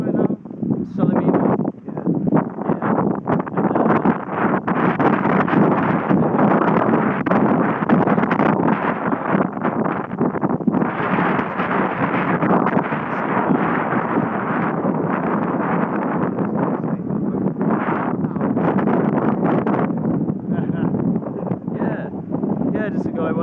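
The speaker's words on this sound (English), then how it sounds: "It's a bit windy here" Gusty wind on Salamis, Greece, buffets the microphone in rumbling bursts throughout, loud and continuous, with occasional brief lulls.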